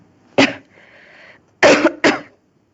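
A woman coughs three times, sharp and close, with a short pause after the first cough and two in quick succession at the end. A faint hum sits in the quiet between them.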